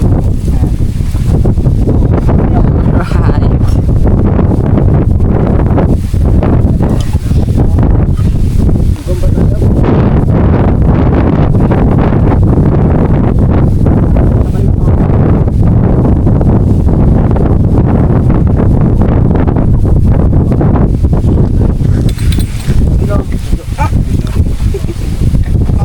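Strong wind on a mountain roars and buffets against the microphone in constant low gusts, with people talking intermittently underneath.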